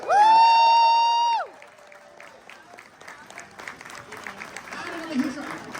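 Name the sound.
applause and cheering from the audience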